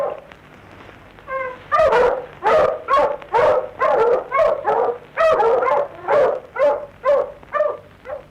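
A dog barks repeatedly in a steady run of loud, close yips and barks, with no other sound around.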